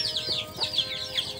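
Chickens cluck in a farm setting, with several short high-pitched calls repeating close by over a steady background of other fowl and farm animals.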